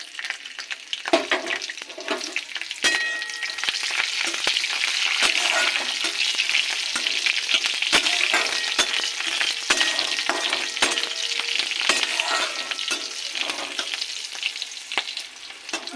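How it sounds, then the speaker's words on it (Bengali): Nigella seeds, garlic and green chili sizzle in a little oil in a wok, a continuous close crackling fry punctuated by sharp spatula taps and stirring scrapes, with no talking. "এবার দিয়ে দেবো কালো জিরে ফোড়ন, আর দেবো রসুন আর কাঁচা লঙ্কা"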